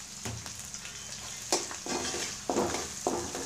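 Spices with salt and chili powder sizzle in a hot pan, a steady frying hiss broken by several sharp scraping stirs of a utensil against the pan.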